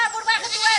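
Goat bleats in a short, loud, wavering cry close at hand, a neighbour's goat in a village yard, standing alone without talk over it.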